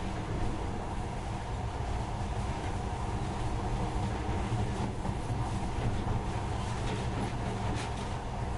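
A steady low rumble and rolling hum of a monorail train running along its track in the video game Metro: Last Light Redux, constant and moderately quiet, with no voices.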